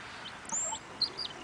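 A pair of brown hens clucking close by in short, soft bursts, a couple of brief sharper calls standing out over a quiet background.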